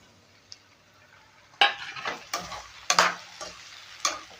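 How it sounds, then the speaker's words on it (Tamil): Tomatoes tossed into browning brinjal frying in oil for a Tamil kathirikai kulambu, with a soft sizzle under sharp, irregular scrapes and clinks of a spoon stirring the pan, close and alone. "இந்த நேரத்தில் எடுத்து வச்சுருக்கிறது தக்காளியை போட்டுடலாம்"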